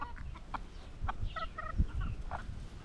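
Chickens in a yard cluck and squawk in short scattered bursts while scrambling after food tossed into the middle of the flock, close and moderately loud over a low rumble of background noise.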